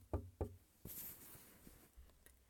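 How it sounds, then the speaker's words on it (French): Two sharp knocks on a door, close and distinct, followed by quieter room noise. "quelqu'un toque à ma porte"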